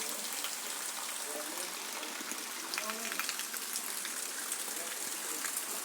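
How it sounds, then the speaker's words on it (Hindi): Heavy rain pours steadily in Bihar, a dense continuous hiss with splashing water, loud and close throughout. "काफ़ी बारिश हो रही है, आप सभी देख सकते हैं यहाँ भी"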